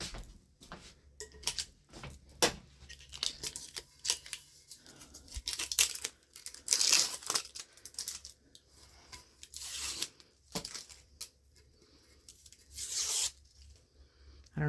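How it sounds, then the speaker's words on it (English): Scissors snipping and tearing the edge of sublimation paper wrapped on a glitter tumbler, close and crisp, in irregular bursts of cutting and rustling with quiet gaps between. "Let me get some scissors, you guys, to just cut the little edge over here."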